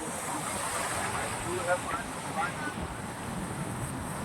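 Sea waves wash in at Olga Givat beach in Israel, a continuous soft surf hiss mixed with wind buffeting the microphone, with faint voices in the background.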